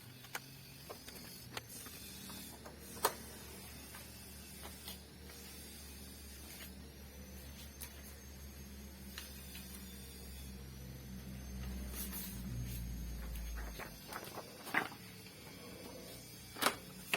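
An Epson printer that would not power on runs a test print after repair: a faint mechanical whir and hum with scattered sharp clicks and ticks of the print head, rising into a louder rumble near the end, with no talk.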